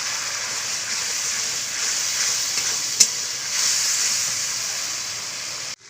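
Spice masala sautés in a pan with a steady, close sizzle and hiss that runs unbroken for several seconds, broken once by a brief sharp clink near the middle.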